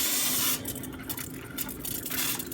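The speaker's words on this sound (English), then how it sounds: "spray your bowl" Oil spray from a hand-pumped pressurized sprayer misting into a mixing bowl for bread dough, a steady broadband hiss of about half a second followed by fainter intermittent spritzes.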